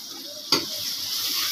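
Masala spices frying in a pan with added water give a steady, close hiss, with one brief louder spike of stirring near the start.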